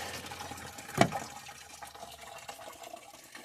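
Coolant drains from the radiator of a 1997 Dodge Neon, a steady close trickle and splash of liquid with one brief louder gush near the start.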